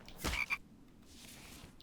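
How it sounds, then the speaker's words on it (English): A single frog in a video game gives a short, close croak early on, then a faint background hum continues with nothing more from it. "Thought he could hide from me, that little frog."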